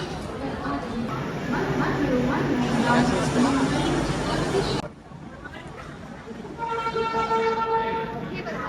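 An Asangaon train rumbles past amid station crowd chatter, with a horn-like tone sounding, then the noise drops abruptly and a steady tone rises again.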